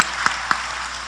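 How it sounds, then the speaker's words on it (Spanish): Audience applause at a ParlAmericas Open Parliament gathering in Peru, a steady wash of clapping heard somewhat distantly, with two sharper claps standing out. "Un aplauso para él también, por favor."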